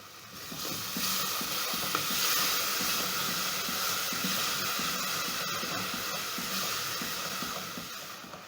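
Pork frying in a pot gives off a continuous close hiss and sizzle with steam, joined by soft stirring scrapes, swelling slightly and then easing toward the end.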